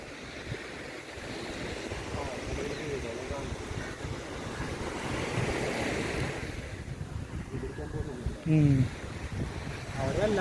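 Surf rolls continuously at Vasco da Gama beach in Goa, a broad wash mixed with wind buffeting the microphone, while people talk nearby.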